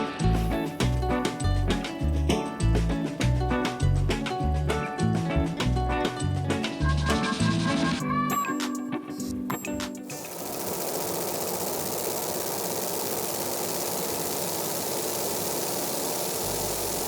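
A laser engraver chatters in fast rhythmic clicks for several seconds while engraving a plaque, then stops, leaving its exhaust fan running on alone in a steady loud whoosh.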